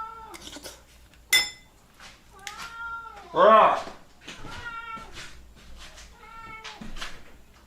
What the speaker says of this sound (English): thank goodness the cat is here